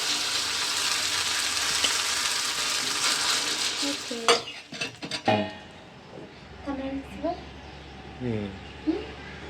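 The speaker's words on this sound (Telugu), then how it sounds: "నూనె వేడికిపోయింది ఇప్పుడు ఇందులోకి ఇడ్లీ పిండి వేసుకోవాలి" Idli batter goes into hot oil in a paniyaram pan: a loud, steady sizzle fills the first seconds, then utensils clatter against the pan and a voice talks over quieter frying.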